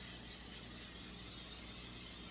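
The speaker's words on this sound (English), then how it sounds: "I'm gonna spray the crap out of it so that it doesn't stick" Cooking spray hisses steadily onto a foil-lined pan for a couple of seconds, a continuous close, fairly quiet aerosol spray.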